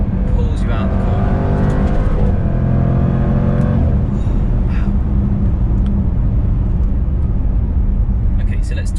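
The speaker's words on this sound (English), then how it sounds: "You stick the nose where you want it to go, put your foot down, and it just yanks you out of the corner." The 5-litre supercharged V8 of a Jaguar F-Pace SVR SUV roars as it accelerates hard out of a corner, revs climbing for a few seconds, then a steady loud rumble with road and wind noise.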